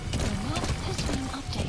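Rhythmic hoofbeats of a galloping horse in Metal Gear Solid V: The Phantom Pain, steady clip-clop under continuous background noise and engine-like hum.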